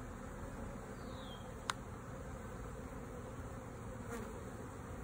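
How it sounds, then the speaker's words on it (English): Honeybees buzzing around a hive as a queen cage is handled during installation, a continuous close insect drone that stays even and moderately loud throughout, with one sharp brief click partway through. "The cage is covered in bees."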